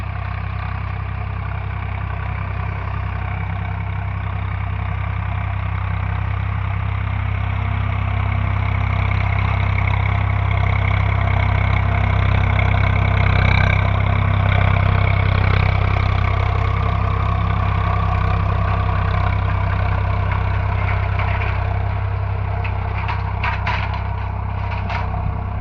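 A Swaraj 855 FE tractor engine runs steadily at idle for a long stretch, a loud, even low-pitched diesel drone with a faint rise in revs midway and no voices.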